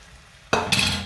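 Seafood filling for mhencha sizzles loudly in a pan, starting abruptly after a quiet moment and rising again in a brighter burst of frying.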